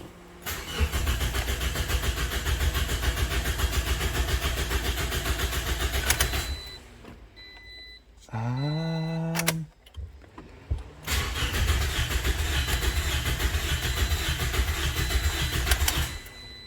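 A Toyota Corolla cranks and fires, its engine running loud and steady for several seconds, dropping out briefly amid a starter whine that rises in pitch, then catching again into a sustained close-up run.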